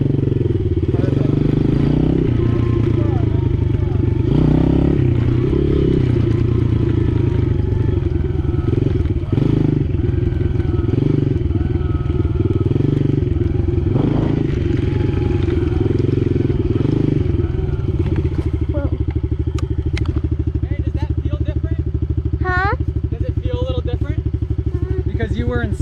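A motocross dirt bike runs in second gear during a riding lesson, its engine drone rising and falling near the listener, with occasional clatter. A rider and coach talk over it, and the engine fades toward the end.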